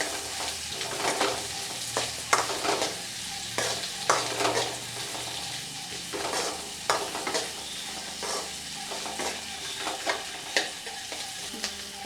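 Onions sautéing in hot oil with cinnamon, two cardamom pods, two cloves and green chilli, a steady close sizzle broken by frequent scraping stirs across the pan for several seconds, with no talking.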